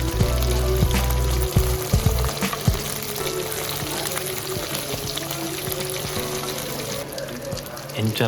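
Fish fries in a pan with a continuous close sizzle and some watery, pouring-like hiss, steady and fairly loud throughout.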